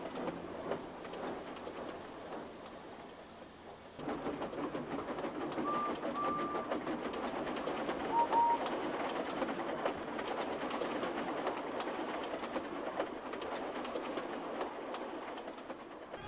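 Steady rolling of a train on rails, a continuous clattering rumble that swells in loudly after a quiet opening few seconds and carries on throughout, with a couple of brief faint tonal squeals.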